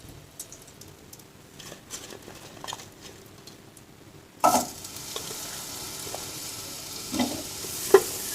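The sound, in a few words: cut apple being sautéed in melted butter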